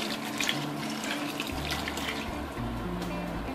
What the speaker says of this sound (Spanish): Y ahora le añadimos un vaso de agua caliente con la pastilla de caldo diluida.